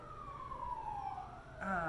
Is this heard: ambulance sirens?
yes